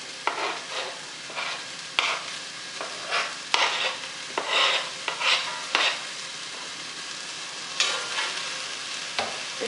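Carrots stirred in a pot while cooking for a bean stew, giving repeated scraping, clattering strokes over a steady soft sizzle, close and fairly loud, with no voices.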